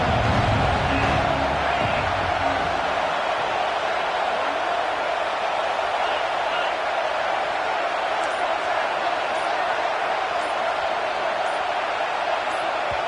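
A stadium crowd in a college football video game, Clemson against Texas, keeps up a dense, unbroken roar with no clear peaks. Low rumbling sounds at the start, then the crowd carries on as a steady wash.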